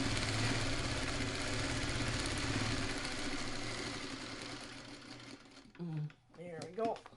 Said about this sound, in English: And what this does is stay stitching so that the block does not distort.